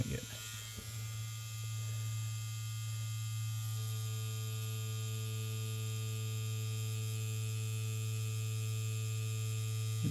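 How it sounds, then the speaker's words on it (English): A tattoo machine runs steadily during linework practice, a loud continuous electric buzz with a strong hum, starting with a brief rough onset then holding an even, unbroken drone for the whole stretch. "you can hear the machine running"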